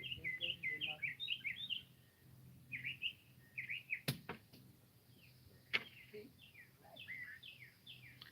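Several songbirds chirp and trill in quick bursts outdoors in the countryside, their calls clustered in phrases with short pauses, with a sharp knock and faint background hum in between.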